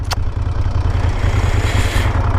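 A Moto Guzzi Stelvio motorcycle engine runs close by with a loud, steady low-pitched throb and rhythmic pulsing, a brief clatter at the start, holding an even idle-to-cruise level throughout.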